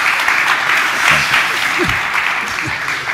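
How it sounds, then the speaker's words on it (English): Audience applause for panelists at a hotel industry conference, a steady broad wash of many hands clapping throughout, with a few brief voices rising over it. "big round of applause for the esteemed panelists."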